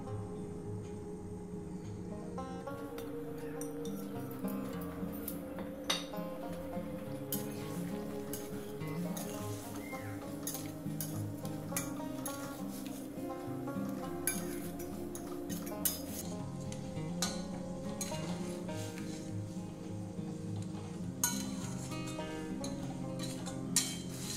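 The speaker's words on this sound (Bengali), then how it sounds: "এবার যে এই ভেজে রাখা মশলাটা দিয়ে দেবো।" Fried spice mix goes into a pan of paneer curry and gets stirred, with repeated clinks and scrapes of a utensil against the pan over a steady background hum. The sound continues throughout at moderate volume.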